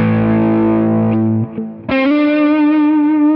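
Electric guitar played through Fender-style amp models on a Quad Cortex, a Les Paul style guitar on the neck pickup, giving sustained distorted chords with a brief break before a new ringing chord rings out loud and alone.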